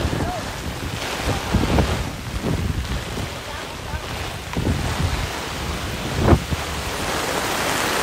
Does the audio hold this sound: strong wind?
yes